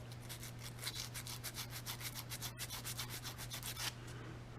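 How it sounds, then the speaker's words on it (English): Emery cloth rubs rapidly back and forth over a hardened super glue and baking soda repair, a quick, even scratchy rhythm over a low steady hum, close and fairly quiet. "So you can sand it, get it nice and smooth, paint it, do whatever you want to."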